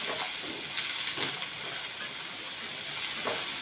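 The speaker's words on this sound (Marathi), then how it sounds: "हे चांगलं 2 मिनटं आपण परतून घेऊया." Mixed vegetables such as corn and mushrooms sautéing in a pan over medium-low gas for white sauce pasta, a steady close sizzle and hiss with occasional soft stirring scrapes, heard alone.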